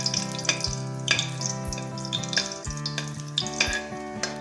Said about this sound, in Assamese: এয়া তেল পকি গৈছে, মই এয়া শুকান জলকীয়া দি দিছোঁ।